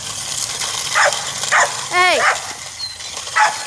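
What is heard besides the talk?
dog barking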